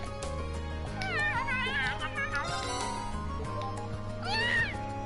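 A cat meows repeatedly in the role-playing game Trails of Cold Steel. The mewing has rising and falling pitch and sits over steady background music, with faint speech-like murmur.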